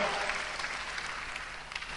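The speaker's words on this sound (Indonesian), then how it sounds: "Yang percaya tepuk tangan." A church congregation claps hands together during a sermon, a dense burst of clapping with a few sharper accents near the end, heard fairly close and with voices mixed in.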